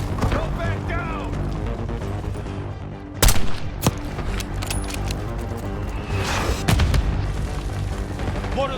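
Mortar blasts and gunfire in the Call of Duty: Black Ops 6 video game, with two sharp loud booms standing out over a steady dense battle bed and scattered shots throughout.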